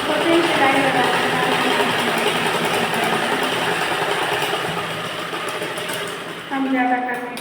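A sewing machine runs steadily while stitching a blouse, a continuous close mechanical whir and rattle under a voice, briefly slowing before picking up again near the end.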